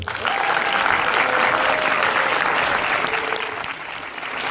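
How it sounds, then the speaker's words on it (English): A large crowd at a film masterclass with Robert Rodriguez and Jon Landau claps steadily and loudly for several seconds, a dense wash of applause that eases slightly toward the end. "ladies and gentlemen, please make some noise for Jon Landau and Robert Rodriguez."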